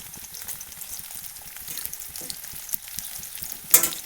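Chopped onion frying in mustard oil in a wok on a gas stove, a steady close sizzle with soft stirring clicks and one brighter burst of spitting near the end; no voices.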